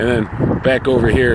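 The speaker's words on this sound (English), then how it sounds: "pardon the wind" Someone talks outdoors at Penn's Landing, Philadelphia, while gusts of wind buffet the microphone, adding low rumbling bursts beneath his voice.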